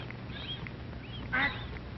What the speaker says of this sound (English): Mother duck calls to her babies to follow her into the water.